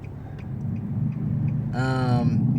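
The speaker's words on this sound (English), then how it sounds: "That truck is loud. It is very loud." A loud truck rumbles past outside, a steady low roar that swells slightly, with a short tonal whine partway through.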